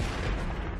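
German coastal artillery firing on the D-Day landing beaches in WWII, a dense, continuous rumble of booming gunfire with no clear gaps, loud and sustained.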